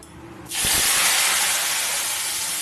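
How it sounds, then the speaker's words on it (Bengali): Tender neem leaves drop into hot oil in a kadai for frying with eggplant. After a brief quiet moment, a sudden, loud sizzling hiss erupts close by and keeps going, easing only slightly. "এখন নিম পাতা আমি কড়াইতে দিয়ে দিলাম"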